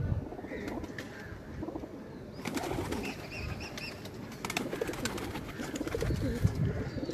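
Pigeons cooing and calling on a rooftop loft, soft repeated coos with chirps and a brief flutter of wings; someone talks over them in the background.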